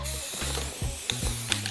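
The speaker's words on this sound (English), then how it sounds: "it's time to spray paint this bad boy" An aerosol spray paint can hisses steadily and close, broken by mechanical clicking and rattling throughout the short burst.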